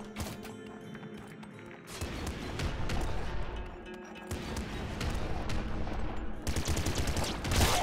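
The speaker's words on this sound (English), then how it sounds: "An assault rifle." Assault rifle fire in the game Nuclear Throne, rapid dense bursts of shots layered over busy game sounds and music, loud and continuous through most of the stretch.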